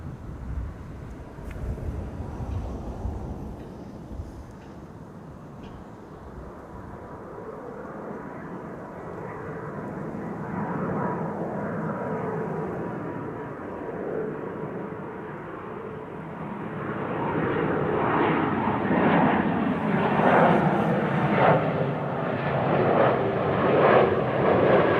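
A Helvetic Airways Embraer 190-E2 departs Schiphol for Zurich, its jet roar building steadily from a distant rumble to a loud, close-passing thrust with wind buffeting.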